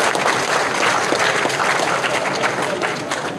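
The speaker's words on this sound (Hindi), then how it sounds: "जोरदार तालियां बजाएं" Crowd applause at a rally of employees in Connaught Place, a dense, steady roar of many hands clapping, loud and continuous, tapering slightly at the end.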